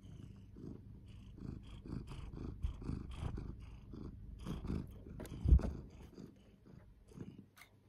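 A low, continuous purr rumbles steadily throughout, with faint rustles and one brief louder bump partway through.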